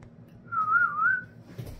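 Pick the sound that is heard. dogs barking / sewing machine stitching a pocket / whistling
whistling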